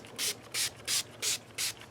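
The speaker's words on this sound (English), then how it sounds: "Just spray it on everywhere." Five quick hissing sprays from a spray bottle of cleaner in a guitar shop, evenly spaced in a steady rhythm, close and fairly quiet.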